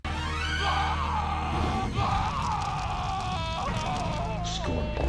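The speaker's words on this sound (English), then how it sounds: "the opponent screams in horror, like a victim in a slasher movie" A Mortal Kombat opponent screaming in horror during Scorpion's Toasty fatality, a loud wavering howl that rises and falls over several seconds against rumbling game effects.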